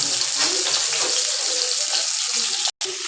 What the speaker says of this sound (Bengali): আমি এই কটাই দিলাম, দুবারে ভাজে ভাজ করে ভাজবো।